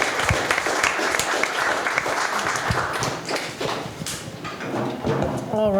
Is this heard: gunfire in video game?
no